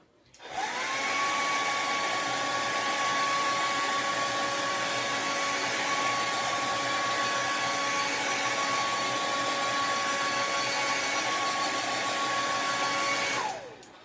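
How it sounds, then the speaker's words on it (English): A blow dryer runs steadily and loud for about thirteen seconds, a continuous whooshing roar with a whining motor tone, switched on at the start and off near the end, used to dry a very soft pink heart decoration. "I'm going to hit this up with my blow dryer."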